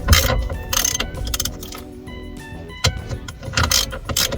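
Ratcheting socket wrench clicks and metallic mechanism sounds while loosening the steering wheel nut on a 1998 Jeep TJ, in close, uneven bursts with brief pauses.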